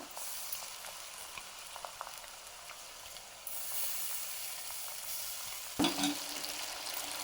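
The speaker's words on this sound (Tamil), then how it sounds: "ஒரு 1 நிமிஷம் பாருங்க, கொதிச்சு எண்ணெய் பிரிய ஆரம்பிக்குது" Curry leaves and ginger garlic paste fry in hot oil with a continuous close sizzle and crackle, light stirring clicks, a sharper burst of sizzling partway through, then steady frying again.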